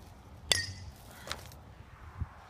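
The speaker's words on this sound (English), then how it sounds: "Why are you still smashing the battery?" An iPhone 4 battery is struck outdoors: one sharp, ringing crack, a lighter tap a moment later and a dull thud near the end, all fairly quiet against a hushed background.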